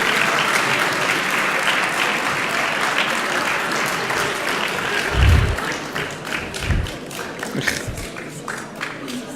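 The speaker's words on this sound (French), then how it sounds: "On peut les applaudir très fort." An audience at a Soustons town gathering claps steadily for local sports teams, sustained applause with a few louder thumps and crowd stirrings toward the end.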